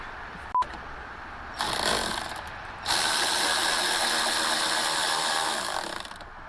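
A hand ratchet tightening dash bolts inside a Mustang GT350, a click, then a short burst and a longer run of rapid pawl clicking, close and fairly loud.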